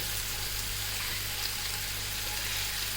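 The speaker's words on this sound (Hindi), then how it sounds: "और अब इसके अंदर डालूँगी मैं पानी" Water is poured into spices frying in a pan, making a loud, steady sizzling hiss that fills the whole moment with no voices.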